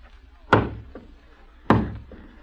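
Two sharp thuds on a door, spaced about a second apart, close and fairly loud in an otherwise quiet room, no talking.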